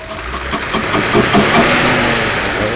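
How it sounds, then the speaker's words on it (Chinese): A Mercedes-Benz R107 280SL after fuel distributor and spark plug work, its engine revving up close and loud, a brief steady rising roar with no talk. "我们来试着拉一下转速，"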